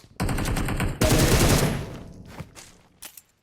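Rapid automatic gunfire in the mobile battle-royale game PUBG Mobile, a loud sustained burst of close shots that breaks off into a few scattered, fainter shots near the end.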